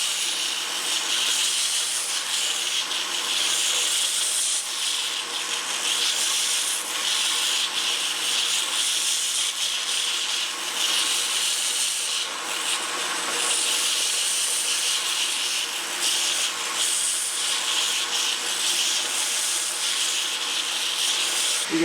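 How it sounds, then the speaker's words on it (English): A grinder shapes a wavy steel dagger blade, giving a continuous close abrasive hiss and whir that runs without a break, with slight swells as pressure shifts. "Now if you have a grinder like this, resist the idea of cranking it up to its high speed."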